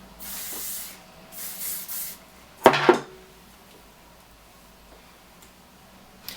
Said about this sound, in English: I'll spray some hairspray through that